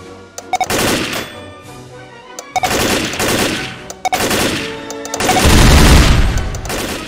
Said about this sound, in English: I activate this thing, and it'll make a different guns fire at different times.